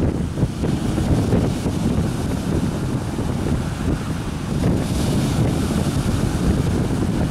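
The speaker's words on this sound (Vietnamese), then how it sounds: "khi mà trời sóng gió như thế này" Stormy wind and waves at sea around a heavily loaded barge, a continuous loud roar of gusting wind across the microphone mixed with churning water, steady throughout with no talking.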